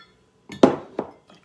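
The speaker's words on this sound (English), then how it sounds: "let me get another spoon and scrape the sides." A spoon clinks and scrapes against the sides of a bowl while pita bread dinner ingredients are being mixed, giving two or three short, sharp, close taps.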